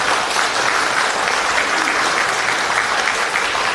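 An audience claps steadily and loudly at the launch ceremony of a new political party's founding preparatory committee, a dense, continuous wall of applause filling the hall.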